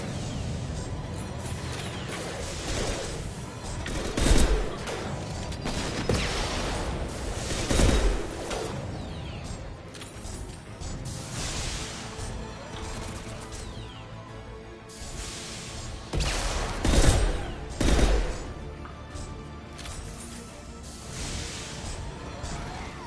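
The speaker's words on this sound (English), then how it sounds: "Firing concussive shots!" Concussive shots and heavy gunfire from a sci-fi shooter game battle, a dense, continuous wash of blasts and mechanical noise with several louder booming impacts rising out of the din.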